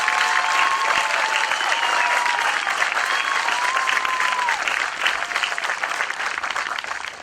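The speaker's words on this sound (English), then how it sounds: "Let's give her a large round of applause for a great job" A graduation crowd on a football field claps steadily for a staff member, with cheers and whoops rising over the applause throughout before it gradually thins toward the end.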